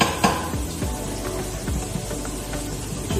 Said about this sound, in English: You can hear this is sizzling away